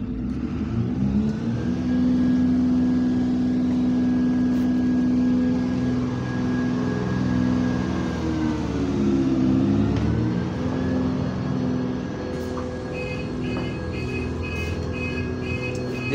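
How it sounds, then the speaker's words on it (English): A GAL DOE5 city bus engine on route revs up and holds a loud, droning roar, dipping and rising again midway with a whining tone, building air pressure; no talk. "You need to rev the engine."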